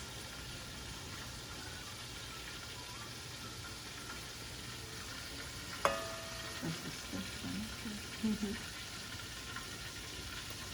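Garlic and ginger dropped into a hot pan, a sharp hit followed by a soft scattered sizzle and a few pops over a low, steady background hum.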